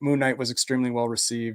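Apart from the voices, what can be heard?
No distinct noise like a dog, phone or traffic.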